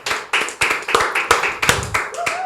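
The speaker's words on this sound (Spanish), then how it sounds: "queremos darle un fuerte aplauso, producción allá atrás, a Pastor Iván" A church audience gives Pastor Iván a strong round of applause, heard as a close, lively patter of distinct sharp claps from a small group, with no voices over it.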